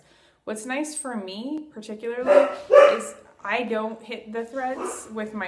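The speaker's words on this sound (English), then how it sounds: "sorry about my dogs" Dogs bark a couple of times in the background, partly masked by a person speaking steadily close to the microphone.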